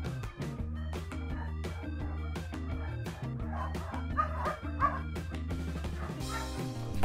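Short yipping dog barks sound over a steady upbeat music track at an animal shelter, repeated sharp bursts mixed under the music.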